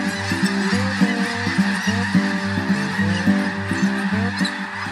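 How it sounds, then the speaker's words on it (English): A dense, continuous chorus of thousands of geese honking at once, loud and overlapping, as the flock lifts off from its roost at Bosque del Apache to fly out to nearby fields. "thousands of geese take flight from the roost and fly out to the nearby fields to feed"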